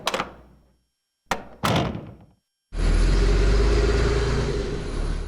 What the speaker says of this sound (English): He opened the door and walked out.